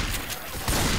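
Shotgun blasts against a zombie horde in Left 4 Dead 2, a dense burst of loud gunfire that swells near the end of the short moment, with no voices over it.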